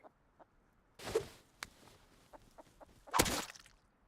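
A chicken in the video game Rust, two short bursts of clucking and flapping with small clicks and steps between them, close and otherwise quiet.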